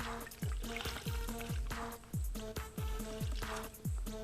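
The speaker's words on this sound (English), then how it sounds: "Remember to give your towel a good wring in the water" A towel is wrung out in a basin of water, giving repeated splashy pours and trickles in uneven bursts, close and fairly loud, with watery gurgles between squeezes.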